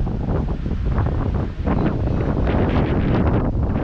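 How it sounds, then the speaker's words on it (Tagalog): Strong wind gusts roar steadily across the microphone outdoors, a constant loud rumbling rush with brief dips, with no talking heard. "Ang hangin."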